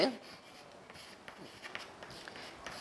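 Chalk scratching on a classroom board as a chemistry teacher writes, soft scattered strokes and taps over quiet room tone.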